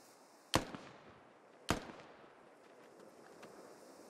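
Two sharp, distant gunshot cracks in the tactical shooter game SquadOps, spaced about a second apart with faint reverberating tails and a low background hum, no voices.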